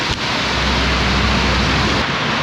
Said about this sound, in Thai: เป็นน้ำตกแบบ